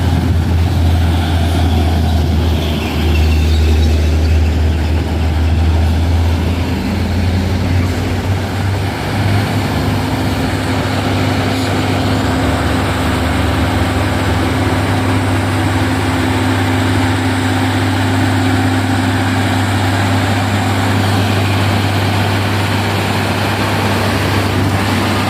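Heavy trucks, including a container truck and a tanker, labor up a steep hill road, their diesel engines droning loud and continuous with a deep low hum throughout.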